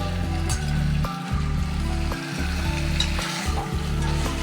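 Loud, continuous sizzling of anchovies frying in hot oil, close up, with faint stirring scrapes.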